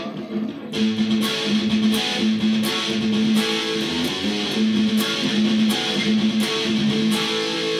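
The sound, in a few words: guitar chorus riff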